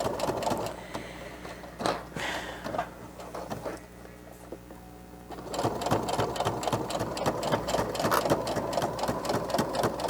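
A sewing machine runs in short bursts, then a longer steady stretch of rapid needle clatter while stitching binding on a fabric face mask with a pocket and nose piece, close and fairly loud.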